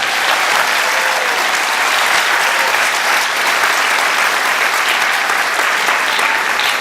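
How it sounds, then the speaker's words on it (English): Loud, sustained applause from a large crowd at a teacher of the year ceremony, steady clapping filling the room without a break. "Let's give them a round of applause already."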